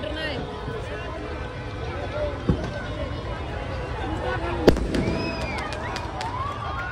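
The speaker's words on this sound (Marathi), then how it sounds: "अजून आहेत फटाकडे तेव्हा फोडतायत" Firecrackers burst outdoors at a New Year's Eve street celebration, with two sharp cracks standing out over crowd noise and people talking nearby.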